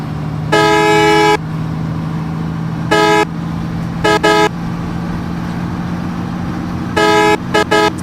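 Hanif bus overtaking an Asia Transport bus on the road, its loud multi-tone horn blaring in repeated bursts, one long blast and several short toots, over a steady engine rumble.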